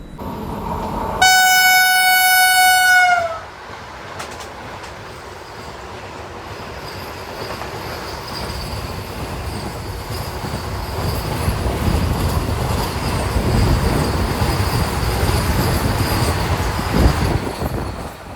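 Visakha Express pulling into platform 1 at Sattenapalli station: a loud, sustained horn blast with a steady harmonic stack, then the continuous rumble and clatter of coaches and wheels rolling past close by, with faint wheel squeal.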